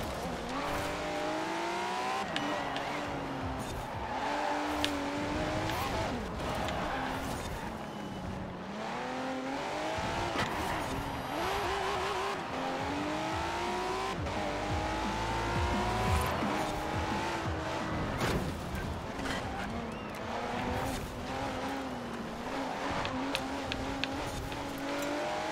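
A rear-wheel-drive car drifting around a circuit course in Forza Horizon 4, its engine revving continuously with rising and falling pitch while tires squeal and skid through long slides, loud and unbroken.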